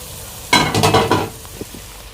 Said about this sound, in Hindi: अभी जो मसाले मैंने ग्राइंड किए थे उनको मैं डाल रहा हूँ।